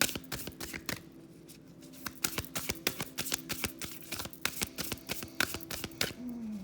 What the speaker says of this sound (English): I pre-shuffled and this card flew out.